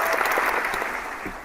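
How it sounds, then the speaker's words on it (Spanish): A burst of applause from an audience at a talk, loud and continuous clapping that fades slightly over a second and a half, heard on its own. "Te doy un aplauso, Steve, por tu participación."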